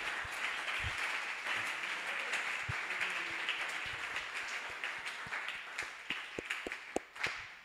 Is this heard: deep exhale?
no